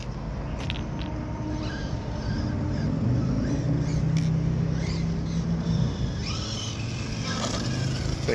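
A Traxxas Slash RC short-course truck doing wheelies outdoors, its electric motor whining and rising in pitch over steady broadband noise, moderately loud throughout.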